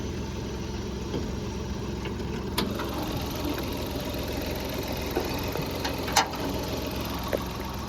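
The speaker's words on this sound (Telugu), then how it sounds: "ఇప్పుడైతే మీరు చూసుకోవచ్చు ఇంజన్ సౌండ్ వినొచ్చు, ఇంజన్ ఆన్లో ఉంది." A 2008 Maruti 800 petrol car idles with its bonnet open, a steady low mechanical hum and vibration with faint ticking and a few sharp clicks, close and continuous with no speech.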